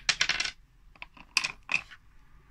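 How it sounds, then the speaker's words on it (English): Dice from a Word Yahtzee game are dropped into a container, making a burst of hard rattling clicks followed by several scattered separate clatters, close and without talk. "you take it in turns in putting the dice into here"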